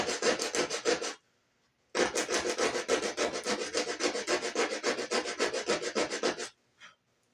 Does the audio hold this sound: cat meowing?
no